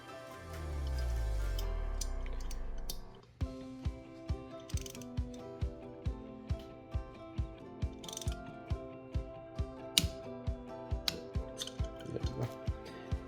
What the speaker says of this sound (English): I'm going to torque it down, and the torque spec for this Allen bolt is 84 inch-pounds